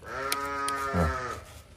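Sheep at a busy livestock market, a single drawn-out bleat with clear harmonic tone and a brief lower call near the end, fairly close and alone without talk.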